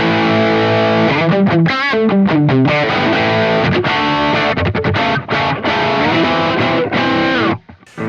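Distorted electric guitar through a Marshall Studio Vintage SV20 amp with stereo delay off, playing chords and riffs, loud and continuous with a thick, crunchy Plexi-style tone, ending abruptly.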